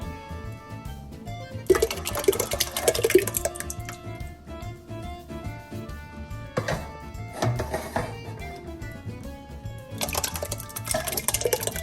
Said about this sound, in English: now all that's left in there, we're going to rinse some water out of it to get it out.